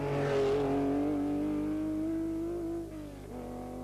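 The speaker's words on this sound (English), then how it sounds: "beautiful sounding 3-litre Porsche" A 3-litre Porsche rally car on a rally stage, engine note rising and holding strong through a gear change as it passes close and loud, fading slightly at the end.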